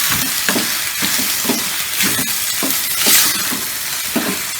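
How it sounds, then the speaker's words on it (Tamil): Onion, tomato and goat blood are sautéed in a hot pan for a goat blood pepper fry. A close, constant sizzle runs under rhythmic spatula strokes that scrape and stir about twice a second. "போட்டுட்டு நல்லா வதக்குங்க"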